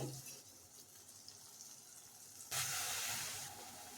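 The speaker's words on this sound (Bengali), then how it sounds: "এই মশলার উপরে আমরা যোগ করবো এখন সামান্য পরিমাণ জল" A little water poured onto cooking spices in a pan for paneer curry, a faint low hiss that turns abruptly into a brighter, louder splashing sizzle for a second or so before easing off.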